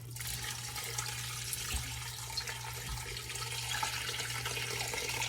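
Filtered water pours steadily into a pot of bones for homemade broth, a continuous rushing, splashing stream with a constant low hum underneath and no talking.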